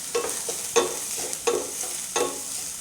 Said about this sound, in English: add the dry shrimp and continue saute for another half a minute